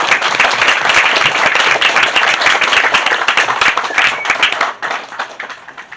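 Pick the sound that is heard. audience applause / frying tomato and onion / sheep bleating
audience applause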